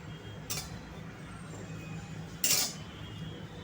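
Ingredients dry-roasting in a pan without ghee, with two sharp clinks of a spoon against the metal over a low steady background hiss, close and fairly quiet.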